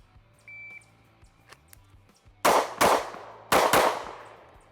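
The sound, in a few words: Kimber CDS9 pistol gunshots at targets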